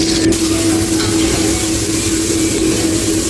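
Garlic, chopped onion and green chili frying in hot oil give off a loud, continuous sizzle, close and steady, with a faint low hum underneath and no talking.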